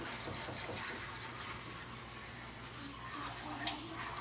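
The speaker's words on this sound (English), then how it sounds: "We're going to keep rinsing this one a little bit." Running water pours steadily over a tie-dyed shirt being rinsed, a continuous close gushing splash with no break.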